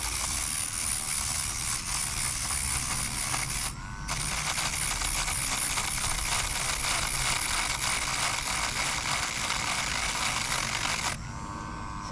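A Dremel rotary tool running on its slowest setting buzzes steadily as it cleans a beached sea urchin shell, a close, even whine with a short break partway through and a quieter stretch at the end.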